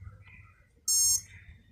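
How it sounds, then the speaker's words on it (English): An R/C model's ESC gives a single sharp, loud confirmation beep lasting about a third of a second once the transmitter is switched on, standing out over a low background hum. "you heard that confirmation beep. That means the motor is armed and ready to spin."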